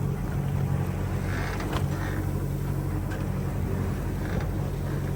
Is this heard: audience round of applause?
no